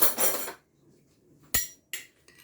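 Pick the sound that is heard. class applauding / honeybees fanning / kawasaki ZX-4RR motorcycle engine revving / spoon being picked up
spoon being picked up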